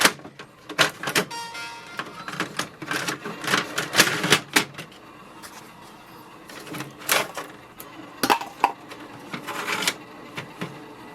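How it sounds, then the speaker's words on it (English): An HP OfficeJet Pro 8025 printer's bottom paper tray is pulled open and A4 paper loaded, giving a run of close, loud plastic clicks, slides and rattles in uneven bursts, with no speech. "Open the paper tray which is at the bottom"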